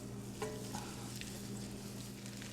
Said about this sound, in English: We're just heating up the noodles now.